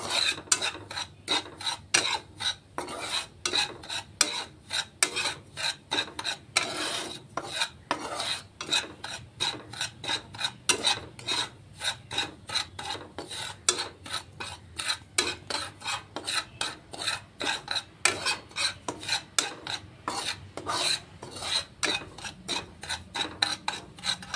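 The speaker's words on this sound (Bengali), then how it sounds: "ভালো করে সুজিটা নেড়ে চেড়ে রোস্ট করতে হবে।" Semolina roasting dry in a pan is stirred continuously, producing a brisk, rhythmic rasping scrape from each stroke of the spoon, close and steady for a long stretch with no voices.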